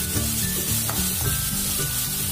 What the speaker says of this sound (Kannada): ಈರುಳ್ಳಿನೇ ನೀಟಾಗಿ ಸಣ್ಣೂರಿನಲ್ಲೇ ಬೇಯಿಸ್ಕೊಳ್ಳೋಣ